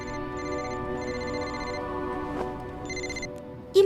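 A phone rings in a Hindi-dubbed Hollywood action movie with repeated electronic trilling bursts in a steady on-off pattern over a quiet background hum, ending with a brief voice.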